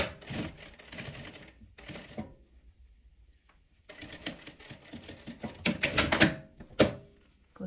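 A home sewing machine stitches fabric in loud, rapid mechanical bursts with clattering, broken by a quiet pause, then running again in several uneven spurts.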